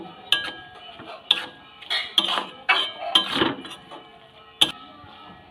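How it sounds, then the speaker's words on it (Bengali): A spoon stirs amla (Indian gooseberry) with spices in a bowl, giving irregular light clinks and scrapes against the bowl, close and fairly clear, with soft rustling between the taps. "চামচ দিয়ে একটু ঘেটে নিলাম"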